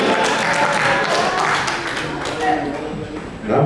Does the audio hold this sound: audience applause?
yes